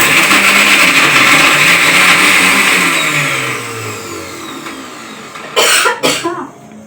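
A mixer grinder whirs loudly and steadily as it grinds coconut pieces, its motor winding down, followed by a couple of short bursts of grinding.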